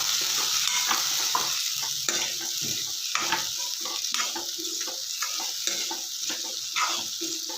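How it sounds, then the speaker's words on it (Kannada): Fried green beans being stirred in a hot pan for a beans palya: steady sizzling and frying under repeated scraping, clattering strokes of the spoon, close and continuous, no voices. "ಇವಾಗ ಹುರಿದಿರುವ ಬೀನ್ಸ್ ಹಾಕ್ಕೊಳ್ಳೋಣ. ಚೆನ್ನಾಗಿ ಮಿಕ್ಸ್ ಮಾಡ್ಕೊಳ್ಳೋಣ."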